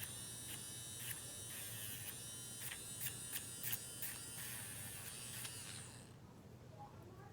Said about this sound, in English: any little parts of the plastic nail, you're just gonna Dremel that off